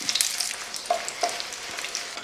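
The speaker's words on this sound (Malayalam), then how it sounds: "ആ മുളക് ഒന്ന് ഇളക്കി ഇതൊന്ന് വറുത്തെടുക്കുക" Dried red chillies fry in hot coconut oil with a steady close sizzle, while occasional soft scrapes and clicks come from stirring in the pan.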